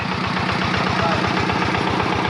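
A tractor engine idles steadily nearby in a rice field, with a regular low thumping chug and a constant mechanical rumble throughout.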